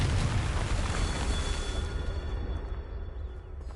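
The Confringo blasting curse in Hogwarts Legacy, a video game, lands as a heavy booming explosion that starts loud and rumbles away over a few seconds, with no talking.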